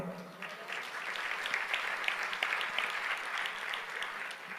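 A congregation at a Telugu Christian sermon applauds steadily, a dense patter of many hands clapping at moderate volume, slightly distant, with no talking over it.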